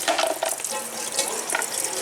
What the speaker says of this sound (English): You can see that's all water coming out.